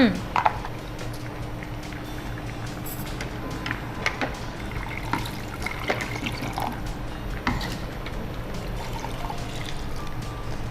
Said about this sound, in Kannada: ಈಗ ಸ್ವಲ್ಪ ನೀರು ಬೇಕು, ಮಿಕ್ಸಿಗೆ ಹಾಕಿ ಹಾಕುವ